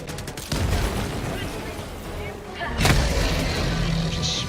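Grenade blast and rifle fire in a Helldivers-style co-op shooter: a sharp boom at the start and another heavy burst later over continuous loud battle noise and gunfire, with players talking throughout.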